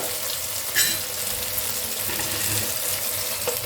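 Marinated mutton hits hot oil and fried spices in a pan, giving a loud, steady hiss and sizzle that continues with no talk.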